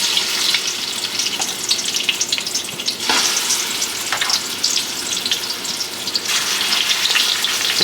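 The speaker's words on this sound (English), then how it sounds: "let's brown up this chicken" Chicken pieces sizzle skin side down in hot tallow, a loud, continuous crackling fry with bursts of spitting as pieces are added and moved, heard without talk.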